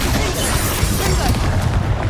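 In Hogwarts Legacy, a Confringo fire spell detonates with a loud, dense blast, a sustained booming crackle of explosive noise.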